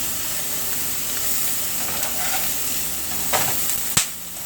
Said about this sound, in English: Let it sear one side. And then you flip it.